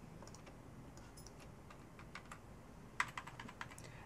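Computer keyboard keys tapped for Photoshop shortcuts, including the bracket keys beside the return key, quiet clicks scattered sparsely, growing into a short cluster of sharper taps near the end.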